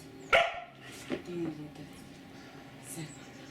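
A dog gives one sharp bark on the speak command during obedience training, followed by a softer yip, with a person speaking around it.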